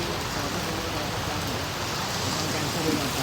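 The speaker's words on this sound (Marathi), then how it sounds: "एकदम जोरात भाई पाऊस पडतो" Heavy rain pours steadily, a dense, loud, unbroken hiss of water on surfaces that fills the whole stretch without pause or change in level.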